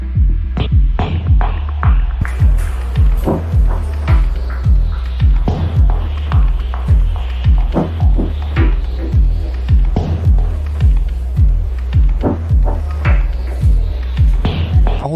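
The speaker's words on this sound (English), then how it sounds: "I'm adding a bass line with light drive." A dub techno bass line in E, blending sub sine and glide with light drive, pulses in a steady repeating rhythm beneath layers of hissing, percussive noise, loud and upfront with no voices.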